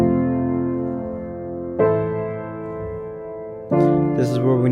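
Piano plays chords with a melody on top, three firmly struck chord attacks each left to ring and fade, played alone and close.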